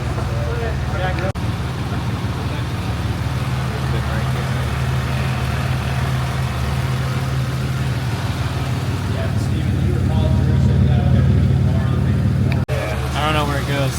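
Chevrolet Lumina race car engine idling in gear in a garage, a steady low rumble that runs without a break, with people talking over it.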